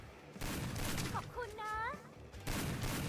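Rapid bursts of Free Fire gunfire crackle loudly, broken by a brief gap where a voice speaks, then the shooting resumes.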